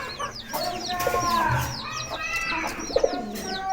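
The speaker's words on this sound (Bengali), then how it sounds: "এই যে আমাদের কবুতর মাশাআল্লাহ, কবুতর জোড়া খুব ভালো।" Pigeons coo in a backyard poultry setting, with several soft repeated calls and other bird chirps layered throughout, and hen clucks nearby.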